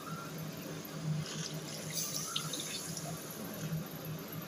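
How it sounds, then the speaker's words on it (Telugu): Water poured into a pot of cooking pumpkin curry, a steady soft splashing and trickling stream under faint kitchen background, no voices. "ఇప్పుడు దీంట్లో మనం సరిపడా వాటర్ వేసుకుందామండి."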